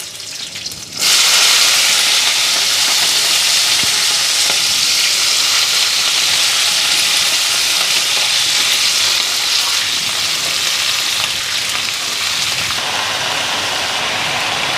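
Vegetables dropped into a hot wok with panch phoron and green chili burst into loud, continuous sizzling and crackling that starts abruptly and stays close and steady throughout.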